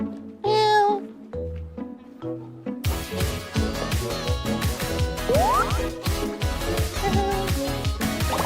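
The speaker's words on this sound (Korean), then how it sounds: "고양이다." A cat meows with a bright rising cry near the start, heard over a busy television variety show with music and background chatter, followed by louder music.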